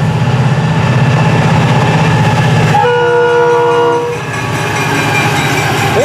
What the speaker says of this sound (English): Hear that bell? Very unusual chime on that bell.